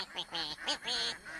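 A free-range duck by the Li River gives a short run of nasal quacks, several quick honking calls in a row, close and fairly clear.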